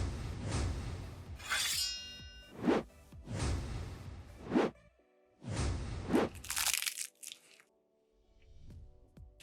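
A plastic onigiri wrapper from Lawson being torn open in several crinkly, rustling bursts, close and fairly loud, with pauses between pulls and a brief sharp crackle near the end.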